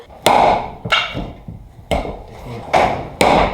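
A hammer drives a wood-splitting tool into a piece of wood in the woods: five sharp, loud, close whacks at uneven intervals, each ringing briefly before fading.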